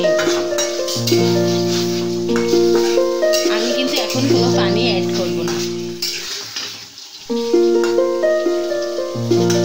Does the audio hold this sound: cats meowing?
no